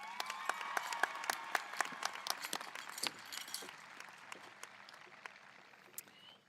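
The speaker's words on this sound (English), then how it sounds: "Now please give a warm welcome and a round of applause to Claire Sines." Audience applause at a high school graduation ceremony: many hands clapping together at a steady, dense rate, gradually thinning and fading toward the end.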